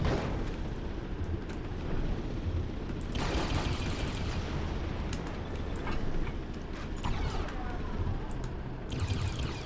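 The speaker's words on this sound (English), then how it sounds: "I'll blow it to smithereens with a torpedo instead." A torpedo blast in the video game Beyond Good & Evil comes as loud booming bursts with rumbling tails over a constant low roar. It strikes several times within a few seconds.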